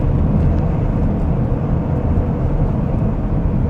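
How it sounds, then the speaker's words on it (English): Inside a 2025 Chevrolet Equinox EV at speed, steady broadband wind rush from around the side mirror mixes with low road rumble in a continuous, fairly loud hiss. "There's a little bit of wind noise around this mirror"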